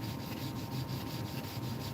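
Wet wood is sanded by hand with 120 grit sandpaper in rhythmic back-and-forth strokes, close and steady, with no speech.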